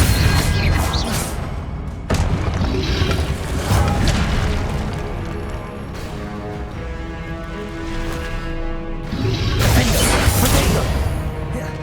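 Spell impacts from Hogwarts Legacy, the Expelliarmus disarming charm, landing as loud booming crashes and whooshing hits in a dense, continuous run of game combat effects with a clanking mechanism underneath.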